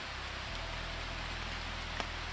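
Rain falling outdoors during a hike in Georgia as a thunderstorm comes in, with a steady, dense patter close by and a few louder drops.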